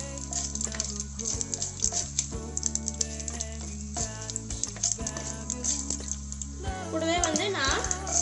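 Okra and onion sauté in a hot pan, crackling and sizzling steadily with scraping stirs throughout, growing busier toward the end.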